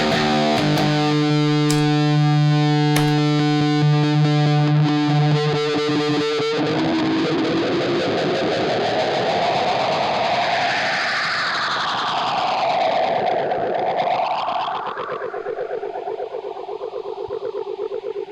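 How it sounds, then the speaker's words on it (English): Electric guitar played through a phaser pedal and an echo unit on a pedalboard: sustained distorted chords with sweeping, swirling phase shifts, then long, swooping echoing tones that rise and fall, loud and continuous with no talking. "you can hear how the phaser is really starting to sound right with the echo unit"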